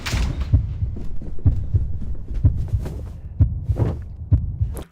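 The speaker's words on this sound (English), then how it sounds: "One more way to show the presence of the hearts is to use a sound effect of a" Heartbeat sound effect added as sound design for a Jack of Hearts themed magic video, steady low thumping double beats repeating about once per second, close and prominent throughout.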